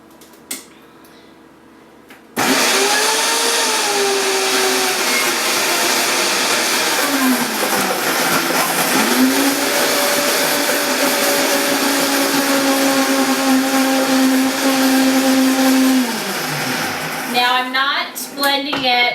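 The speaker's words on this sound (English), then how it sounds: "I have this really super duper blender" A super high-powered blender blending pre-grated ginger for a spicy mint sauce: a loud, steady motor roar that rises and dips in pitch as the load shifts, then winds down near the end.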